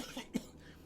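A narrator imitates a character's cough: one short, fairly loud cough burst standing alone against a faint background.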